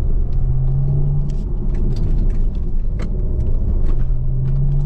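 A Maserati GranCabrio Folgore electric convertible accelerating hard in Corsa mode produces a continuous low electric drive whine and road rumble, with rising tonal hums and scattered clicks throughout.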